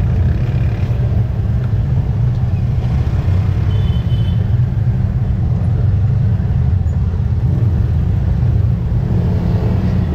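A tuktuk engine drones steadily and loud during a long ride, a constant low rumble with road noise and no break.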